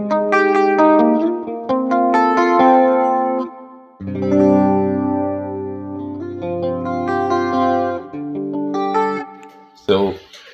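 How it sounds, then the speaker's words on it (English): Electric guitar on a clean channel through a Valeton GP200 multi-effects unit, picking ringing notes and chords with phrases separated by short pauses, clear and close, ending in a sharp percussive burst. "I'm using a clean channel right now"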